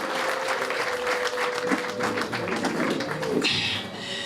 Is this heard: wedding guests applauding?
yes